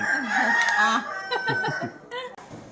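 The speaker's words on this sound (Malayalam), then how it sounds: "നമ്മുടെ ക്രിസ്മസിനുള്ള കോഴി അവിടെ കിടന്ന് കൂന്ന കേട്ടോ" A chicken kept for a Christmas meal lets out one loud, close crow lasting about a second, followed by a few softer clucks and scattered short calls.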